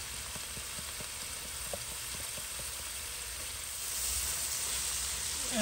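80-20 ground beef seasoned with salt and pepper sizzles in a pan inside a van, a steady close hiss and crackle that grows slightly louder toward the end.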